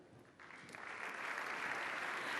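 Applause at a regional economy awards ceremony swells quickly as an award winner comes forward, building from scattered claps into steady clapping from the audience.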